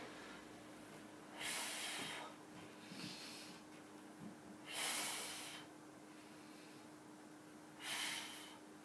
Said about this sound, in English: On my way up, I'm gonna exhale.